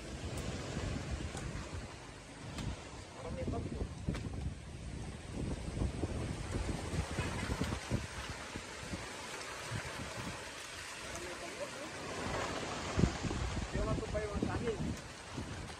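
Strong gusty wind buffets the microphone outdoors, a steady broadband roar with louder surges, while a voice talks intermittently underneath.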